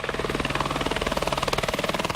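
Rescue helicopter in flight near a church parking lot: rapid, even rotor thumping pulses steadily throughout with a whining engine drone beneath, fairly close and loud, with no voices.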